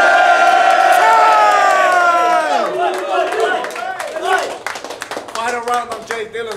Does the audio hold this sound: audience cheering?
yes